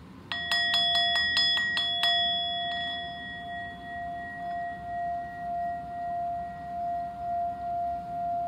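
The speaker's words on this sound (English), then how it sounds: "we hear the bell" A bell during a children's yoga class is struck about eight times in quick succession, each a bright metallic ding, then left to ring out in a long, slowly fading tone with a gentle pulsing shimmer, heard alone in a quiet room.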